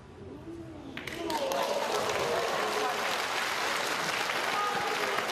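A snooker crowd at the 2018 Shanghai Masters breaks into sustained applause for a flamboyant Ronnie O'Sullivan shot, rising after a second and holding steady, with a commentator's voice underneath.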